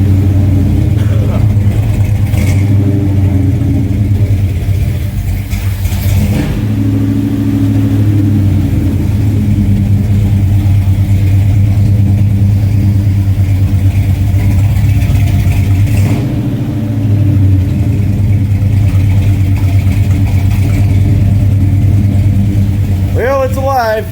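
A Mopar 340 small block in a Dodge Dart idles loudly with a deep, lumpy rumble and occasional revs, recorded up close, with a person speaking briefly over it.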